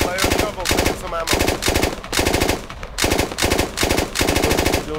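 A SAW machine gun in the video game Squad fires long, rapid automatic bursts, loud and close, with brief pauses between each stream of shots.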